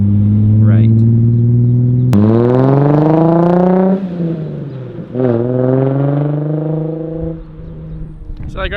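A Nissan 350Z exhaust revs loud and close, its engine tone climbing sharply, holding, dipping, then rising again in a second rev before settling back toward idle.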